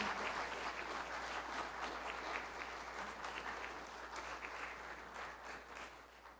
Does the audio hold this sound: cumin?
no